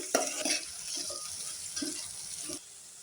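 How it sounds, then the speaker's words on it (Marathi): Finely chopped onion is stirred in a pan while cooking vegetable pulao. A few close spatula scrapes and light sizzling sound alone, with no talk. "एक बारीक चिरून घेतलेला कांदा घातलेला आहे. थोडे हलवून"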